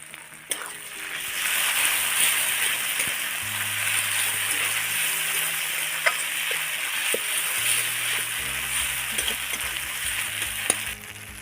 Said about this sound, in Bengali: রসুন বাটা, আদা বাটা দিয়ে দিচ্ছি, জিরে বাটা, ধনে বাটা দিয়ে দিচ্ছি